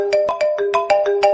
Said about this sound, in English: is this just a default fucking Android ringtone?